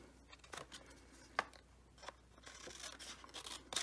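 Scissors cut straight across a piece of card paper while a Father's Day card is being made, giving a run of short crisp snips and rustles, with a sharper snip near the middle and a louder burst near the end.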